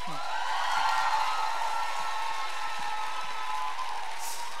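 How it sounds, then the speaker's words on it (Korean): A concert audience at a book concert claps, a steady wash of many hands applauding at moderate distance, sustained evenly for several seconds. "박수 한번 쳐주십시오"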